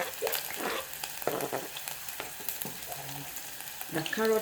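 Carrots fry in about a tablespoon of oil in a small pan, a close, moderate sizzle with intermittent stirring scrapes over a few seconds.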